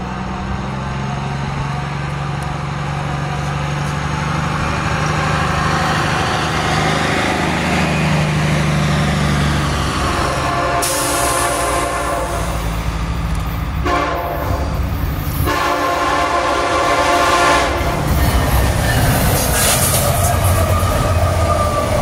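A Norfolk Southern SD70ACC locomotive leads a freight train through Piscataway, New Jersey, sounding its horn while the engine rumbles, then a long, loud, rolling clatter of wagons passing close by that goes on throughout.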